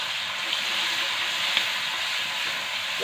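Mustard seeds and crushed green chili thecha fry in hot oil, giving a steady, even sizzling hiss close by with no talk over it.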